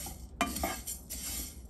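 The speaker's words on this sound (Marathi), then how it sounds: "आपण आता बडीशेप भाजून घेऊया" Fennel seeds roasting in a pan over medium heat for a Kolhapuri bhadang spice mix: a metal spoon scrapes and clinks against the pan in short strokes, with soft rustling of the seeds in between.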